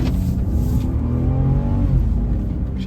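A car engine runs steadily and loudly from inside the moving vehicle, its pitch rising and easing as the driver accelerates through a continuous road drone.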